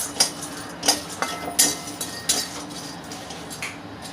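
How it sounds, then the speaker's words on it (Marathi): Green cardamom pods dry-roast in a pan for Malvani masala, with light, scattered rattles and clinks as the pods are stirred and shaken, several distinct taps over a faint background. "आता ही मी हिरवी वेलची पण तसंच भाजून घेणार आहे."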